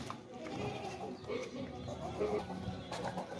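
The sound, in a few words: goat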